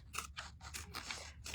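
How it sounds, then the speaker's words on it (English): Sharp applique scissors snipping fabric close to machine stitching on a Halloween spider coaster, a run of about six crisp, close cuts in quick rhythm, with no talking. "I can just use my super sharp applique scissors"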